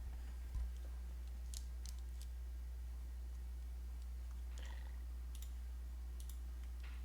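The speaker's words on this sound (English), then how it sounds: "Turn these key sounds off." Computer keyboard keys click in a few scattered, faint taps over a quiet hum, with short isolated bursts rather than continuous typing.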